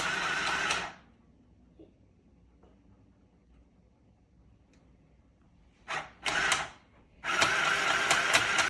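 Craft Bud children's sewing machine stitching fabric, with a loud whirring burst at the start, a long quiet gap, then short bursts and a sustained run of close mechanical buzzing.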